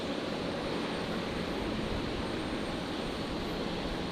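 A QantasLink Embraer 190 jet comes in to land at an airport, a steady broad engine roar from a distance with no voices.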